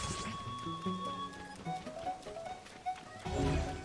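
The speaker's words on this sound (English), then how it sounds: "I think my horse just walked away." A horse in the video game Zelda: Tears of the Kingdom walks off with soft, steady clip-clop hoofbeats over game music tones, fairly near and without talk.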